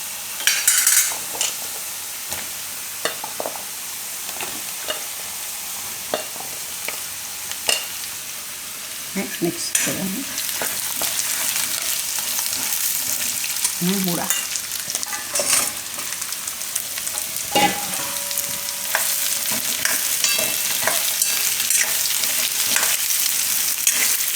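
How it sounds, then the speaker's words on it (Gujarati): Carrots tumble into potatoes frying in hot oil, giving a steady close sizzle with scattered clicks of stirring and a few soft thuds as the pieces land, with no talking. "એકથી બે મિનિટ માટે તો બટેટા થોડીક વાર આપણે આ રીતે તેલમાં પકાવી લીધા હવે એમાં આપણે નાખી દઉં"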